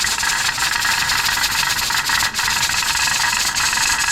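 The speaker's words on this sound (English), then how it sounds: "we waited for our weight to start vibrating and moving around" A pressure canner's weight rattles steadily on a stovetop over medium-high heat while canning green beans, producing a loud, continuous hissing jiggle with no pauses.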